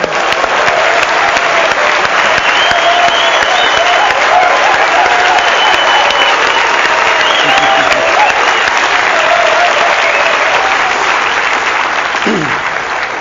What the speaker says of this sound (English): I'm giving myself a round of applause.